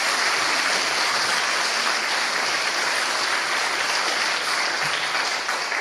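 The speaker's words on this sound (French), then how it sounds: "on peut s'applaudir. Applaudissez-vous." Conference attendees at an opening session applaud themselves, producing a loud, continuous roar of clapping from a large crowd that holds steady throughout.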